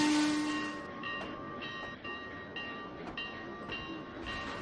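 Train cars coupling in the Trainz 2019 railway simulator, a rolling rail rumble with periodic metallic clanks and steady wheel noise, fairly loud and continuous with no talk.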